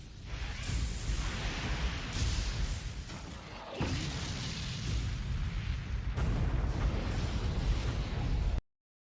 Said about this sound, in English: Sumika proceeds to fire the beam.